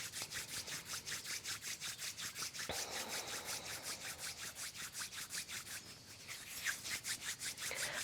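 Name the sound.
rubbing hands together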